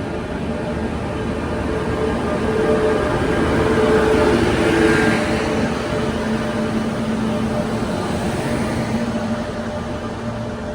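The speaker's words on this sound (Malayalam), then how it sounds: "ഇന്നലെ രാവിലെ 5:25 വാരണാസിയിൽ നിന്ന് പുറപ്പെട്ട മഹാമാന എക്സ്പ്രസ് ആണിത്" The Mahamana Express from Varanasi, hauled by a Vadodara-shed WP7 locomotive, rolls along with a loud, steady rumble of wheels on rail, swelling slightly mid-way.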